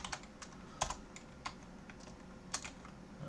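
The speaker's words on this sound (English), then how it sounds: "If I want to add a key value pair, I can type that in" Quiet typing on a computer keyboard, a handful of irregular light key clicks spread over a few seconds, close but soft, with no voices.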